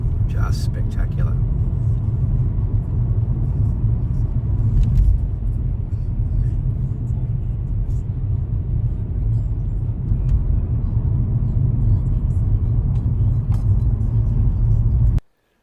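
Car driving down a mountain road into a valley, giving a steady, close low-frequency road and engine rumble that runs throughout with no speech.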